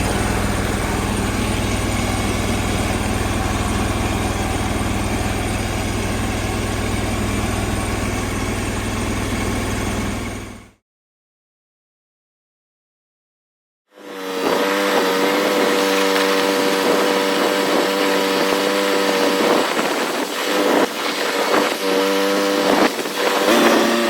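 A Cub Cadet GT2542 lawn tractor engine runs steadily at idle, cuts out to silence for a few seconds, then restarts and settles into a rougher, louder running rumble, close by with no talking.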